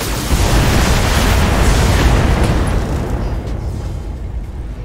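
Mech weapons firing and striking targets in BattleTech, a loud sustained roar of blasts and explosions that swells early, then slowly fades, with no voices.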